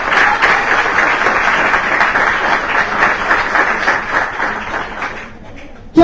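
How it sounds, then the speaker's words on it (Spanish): A congregation at a church service breaks into loud, sustained applause, dense and steady clapping that fills the whole stretch before tapering off slightly at the end. "Dale un fuerte aplauso al Señor."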